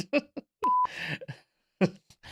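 A single steady censor bleep tone cuts in briefly between bursts of speech, lasting about a quarter second.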